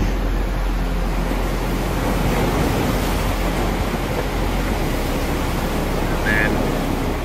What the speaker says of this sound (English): this is what the waves are like